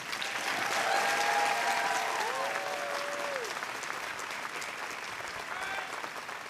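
Steady, dense applause fills a commencement hall as the audience claps for graduates, loud and continuous throughout, with a few faint cheers or whoops mixed into the crowd noise.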